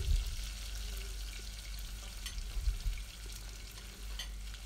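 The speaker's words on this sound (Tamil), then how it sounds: "இப்போ அது கூடவே கட் பண்ணி வச்சுருக்க வெங்காயம் சேர்த்துக்கோங்க." Chopped onions and green chillies frying in a pan of hot oil for a spicy chicken gravy, a steady low sizzle with a few soft stirring bumps, close and continuous with no talking.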